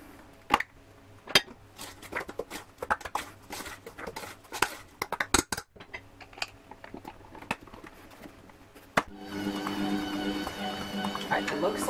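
A spatula clacks and scrapes around the sides of a mixing bowl of vegan chocolate chip cookie dough in a series of irregular, close knocks and scuffs. A steadier, louder whirring noise takes over near the end.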